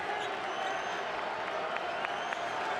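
A basketball arena crowd at a Cincinnati vs. Colorado men's game applauds and murmurs in a steady, dense wash of sound, with a few sharp squeaks and thuds from the court.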